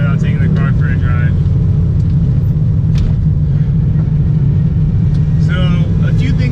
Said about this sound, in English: can't be a car check without taking the car for a drive.